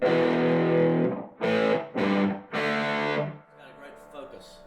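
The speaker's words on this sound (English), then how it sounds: "a thick, perhaps a little bit of a Fendery overdrive" Thick, Fender-like overdriven electric guitar through a Carr Mercury amp, tone controls turned all the way down, playing sustained chords in several loud bursts with short gaps, then a fading, quieter tail.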